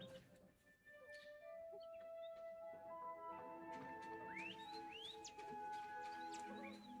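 Fwooper birds in Hogwarts Legacy singing in a layered chorus of bright chirps, whistles and rising calls, several birds overlapping steadily above a faint game ambience with no talk.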